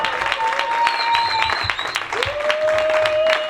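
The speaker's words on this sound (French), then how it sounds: "Vous pouvez applaudir encore très fort." Audience at a family gathering applauding steadily, loud and close, while people talk and call out over the clapping.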